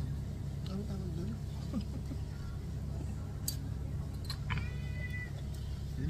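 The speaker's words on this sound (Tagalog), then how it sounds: "In fairness, hindi ako lubayan ng pusa." A cat meows a few times, faint and brief, amid a busy outdoor restaurant with steady traffic rumble and people talking over it.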